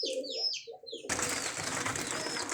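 Pet pigeons coo inside a shop in soft, throaty, repeated calls nearby, and a louder burst of broadband shop noise or rustling then covers the rest.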